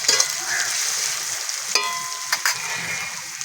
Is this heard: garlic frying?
yes